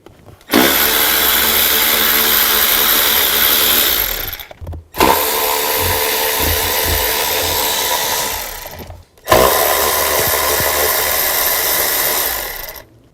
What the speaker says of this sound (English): Now I'm going to take these bolts off of the fuel rail. There's two on this side, two on the other,